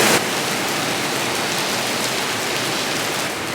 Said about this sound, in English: As you can hear from the torrential downpour around us, this is summer in Pittsburgh.